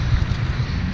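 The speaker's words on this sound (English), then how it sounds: "It's like really cold, and it's really windy too." Wind buffets a microphone outdoors on a cold, windy night during a walk, producing a continuous close, muffled low roar that stays steady through the brief moment.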